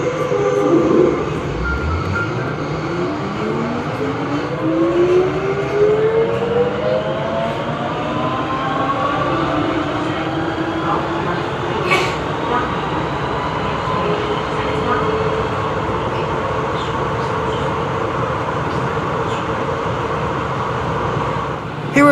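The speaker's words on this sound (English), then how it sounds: "Here is a VAL metro train heading the other way back into the city centre and out towards Fermi." A VAL automatic metro train passes in Turin, its electric motor whine sweeping up and then down in pitch over a constant rumbling roar of wheels and the running train, loud and close for the whole stretch.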